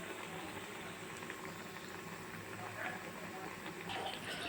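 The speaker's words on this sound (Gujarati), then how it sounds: "હવે હું વડાને મીડિયમ ફ્લેમ ઉપર એક બાજુ ગોલ્ડન બ્રાઉન થવા દઈશ" Corn flour vadas frying in hot oil over a medium flame, giving a steady, fairly faint bubbling hiss with small crackles throughout and no talk.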